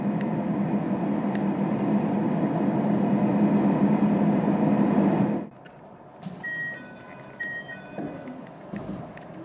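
A train runs eastbound out of Sapporo, Hokkaido, as a passing inbound Kiha 283 goes by. A loud, steady rolling rumble fills the first part, then drops abruptly to a quieter rattle with faint high tones.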